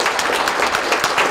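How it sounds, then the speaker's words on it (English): Applause from an audience at a Navajo Nation Veteran Princess pageant, a steady broadband patter of many hands clapping throughout the short moment, moderately loud and without talk. "let's give a good round of applause to the Navajo Nation Veteran Princess"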